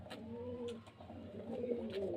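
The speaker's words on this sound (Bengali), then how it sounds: "এই যে দেখুন পায়রা স্ট্যান্ড কোয়ালিটি মাদা পায়রা" Pigeons kept for sale at a pigeon seller's place coo softly and nearby, with a few low, repeated coos close together and no voices over them.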